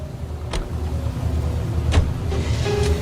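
A commandeered car in the LA Noire video game gives a steady, close engine hum, marked by a few sharp clicks and window-like whirs, with no speech.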